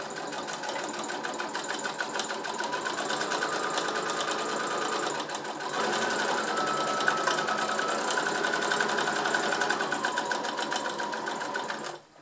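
A domestic sewing machine runs steadily and close, stitching fabric for a glasses case in one long continuous whir that stops abruptly at the end, with no voices.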